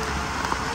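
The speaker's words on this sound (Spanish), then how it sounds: "Está lloviendo ahora mismo." Steady rain falls during a thunderstorm in a snake-filled Australian outdoor spot, heard as a dense, continuous hiss close by for under a second with no voice.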